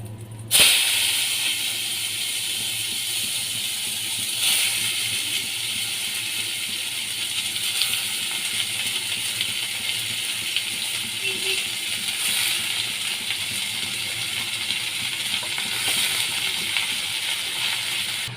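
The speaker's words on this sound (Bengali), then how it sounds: "এবার চাল কুমড়োগুলো আমি তেলের মধ্যে দিয়ে দেব" Pieces of ash gourd frying in hot oil where a hilsa fish head was cooked, giving a steady loud hiss with a sharp burst as they go in, then a continuous sizzle.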